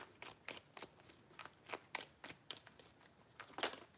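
Tarot cards are shuffled close by in a quiet room, a quick run of sharp riffling bursts and soft slaps coming in an uneven rhythm, with a louder flurry near the end.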